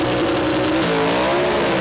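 Gasser drag race cars launch down a drag strip with a loud, sustained engine roar that rises in pitch as the revs climb.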